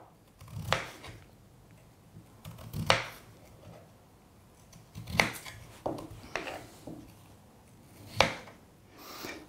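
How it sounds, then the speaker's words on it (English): A kitchen knife slices peeled potatoes into roughly 5mm rounds on a board: sharp, close chopping knocks, about six spaced strikes with quiet pauses between them, no voices. "I'm cutting them into roughly 5mm slices, not too thin"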